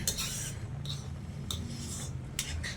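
A spoon stirs pumpkin halva in a pot, making close, soft repeated scraping and rubbing strokes with light metallic clinks in a steady rhythm.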